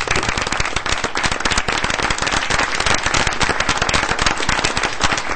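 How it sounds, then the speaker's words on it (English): A board meeting audience gives a round of applause, dense and loud, with rapid overlapping claps sustained from start to finish. "I want to give her another round of applause for that recognition"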